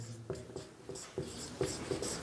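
Writing on a classroom board during a physics lesson: a series of short scratchy strokes and taps, close and fairly quiet, arriving in an irregular rhythm with no voices.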